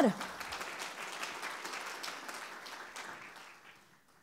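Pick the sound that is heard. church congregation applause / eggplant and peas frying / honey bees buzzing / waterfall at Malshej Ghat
church congregation applause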